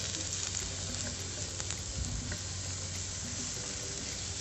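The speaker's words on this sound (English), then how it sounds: "So we're gonna just saute them a little bit." Mushrooms sautéing in a pan for a Brazilian chicken stroganoff: a steady, close sizzle with a constant hiss and occasional small crackles and pops, without any talk.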